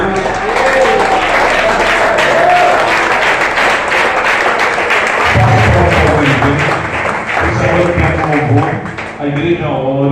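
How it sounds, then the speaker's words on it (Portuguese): A church congregation applauding during a Sunday worship service, loud and sustained dense clapping from many people, with a speaking or singing voice running over it throughout. "Vamos aplaudir porque Ele é digno de receber."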